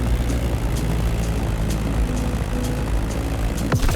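Stagger Wing biplane in flight in The Crew Motorfest, a steady, loud propeller-engine drone with a low rumbling hum that holds constant throughout, no voices, ending with a brief whooshing swell.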